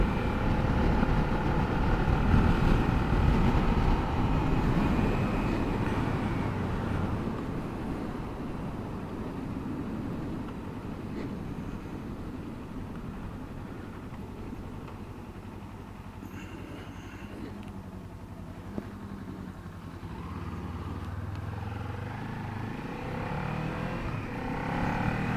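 Steady wind-blasted engine drone from a 2018 Kawasaki Ninja 400 motorcycle on the road, a continuous loud roar that eases slightly midway and then rises again near the end.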